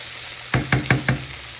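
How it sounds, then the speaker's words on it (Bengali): Chicken momos fry slowly in a pan over low heat, a steady close sizzle broken by four quick knocking clatters in a row, with no voices. "চিকেন মোমোগুলোকে আমি অল্প আঁচে ভেজে নিচ্ছি সময় নিয়ে"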